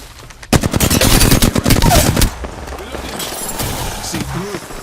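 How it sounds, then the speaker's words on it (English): Rapid automatic gunfire in the battle royale game Apex Legends, a loud close burst of fast shots lasting about two seconds, then quieter distant shots and game noise, with a voice speaking briefly. "I am taking fire, friends."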